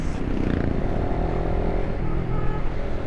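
A Suzuki Raider Fi motorcycle engine runs smoothly at a steady pace, a continuous low rumbling hum heard up close and fairly loud, with no talking over it.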